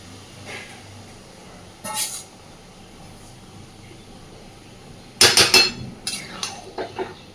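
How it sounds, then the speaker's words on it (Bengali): Boiled peas being stirred into a fried spice mixture for ghugni, a spoon scraping and clinking against the pan in a few short bursts, a brief one early and a louder cluster toward the end, with quiet in between. "খুব ভালোভাবে সব কিছুকে মিশিয়ে দিয়ে জল দিয়ে দেব"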